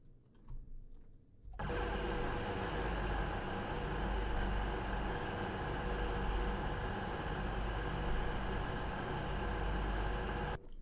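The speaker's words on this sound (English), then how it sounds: "it's quite a quiet train, so hopefully you'll be able to hear a little bit more noise" A Pendolino electric train running in Train Simulator 2020 gives a steady, even hum with a constant tonal whine. It starts abruptly after a brief quiet moment and then holds at a constant level, with no talking.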